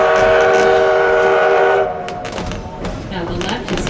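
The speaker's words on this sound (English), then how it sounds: "Number 7 is a 1919 Baldwin Locomotive, originally coal-fired, converted oil, so we can use it on this line." A 1919 Baldwin steam locomotive, converted from coal to oil firing, sounds a long sustained whistle that cuts off, followed by lower rumbling and hissing, fairly close and loud.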